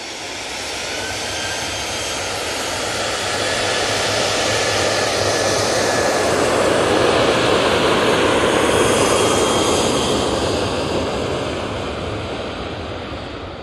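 A Ryanair jet departs from Manchester Airport toward Brussels, its engines a broad, steady roar that swells gradually and holds loud through the middle before easing slightly, with no voices over it.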